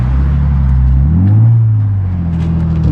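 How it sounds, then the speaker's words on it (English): A BMW 540 E34 with a new exhaust gives a deep, loud engine rumble close by that rises in a short rev and settles back, alone without talk. "I think the car sounds beautiful"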